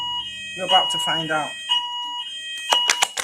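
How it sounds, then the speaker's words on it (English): A fire alarm under test gives a steady electronic tone that runs through the whole stretch while a person talks over it. "So that's just the fire alarm checks."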